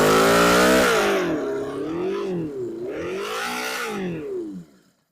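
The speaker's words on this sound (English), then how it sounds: "Let me try it one more time because this bike sounds amazing just trying to start." A 1982 Yamaha Maxim 650 motorcycle engine that had been headed for the scrapyard strains to start, its loud, wavering drone rising and falling in uneven surges for several seconds before cutting out.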